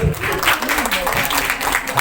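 An audience claps at the close of a presentation on a positive-culture teaching module, a steady patter of applause running under voices talking over it.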